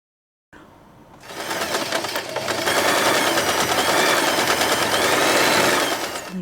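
A sewing machine runs in a fast, steady, rattling stitch while sewing folded satin ribbon for a large bow with long tails, starting after a short pause and gaining speed, close and loud with no talking.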